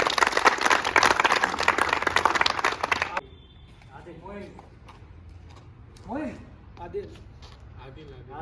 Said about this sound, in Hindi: तो जुबैर के लिए अतुल की जोरदार तालियां बजाएं